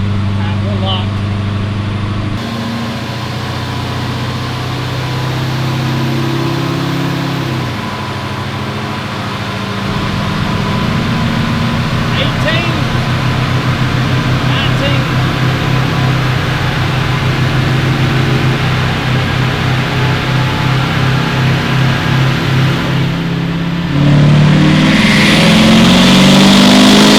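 LML Duramax diesel truck engine pulling on a chassis dyno, a steady loud drone that builds and swells toward the end, with the engine load rising throughout and talk in the background.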